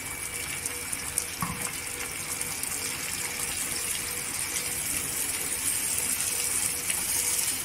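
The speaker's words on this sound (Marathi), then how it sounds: "इथे मिक्सर धुतलेली आहे आणि हे चण्यातले पाणी आहे, हे चणं पण आहे त्याच्यात." Cooking water with boiled black chickpeas pours from a rinsed mixer jar into chana masala, a continuous close, even gush of liquid lasting throughout with no talking.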